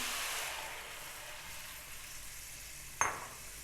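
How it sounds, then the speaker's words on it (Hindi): An onion mixture hits a hot kadhai while cooking a desi chicken shorba, giving a steady broadband sizzle throughout, with a sharp clatter near the end. "अब इसी कढ़ाई के अंदर हमने ये प्याज वाला मिक्सचर डाल देना"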